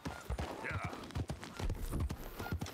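An Arabian horse's hooves in the video game Red Dead Redemption 2 thud in a close, steady clip-clop rhythm over a rumbling background.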